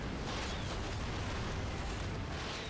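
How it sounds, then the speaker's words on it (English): Dense, sustained explosive roar of a fusion grenade blast in Ratchet and Clank, a crackling, rumbling burst filling the moment near a giant tank. "Fusion grenade."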